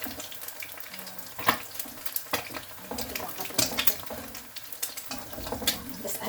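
An egg fries in hot cooking oil with a constant close sizzle. Sharp crackling pops and spatters break out at irregular moments, and a utensil scrapes and clinks against the pan now and then.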